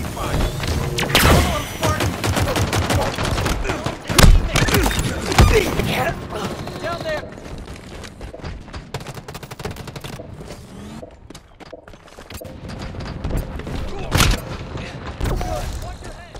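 Rapid bursts of gunfire and heavy thuds from a Halo Infinite Big Team Battle Control match, loud and dense for the first several seconds, then thinning into scattered shots and another sharp burst near the end.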